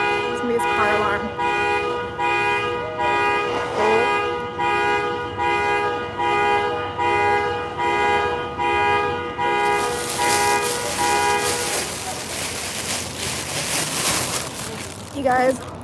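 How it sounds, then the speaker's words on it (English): A car alarm blares nearby, cycling through steady repeating electronic tones for several seconds before giving way to a rushing noise and a brief honk. "Somebody's car alarm."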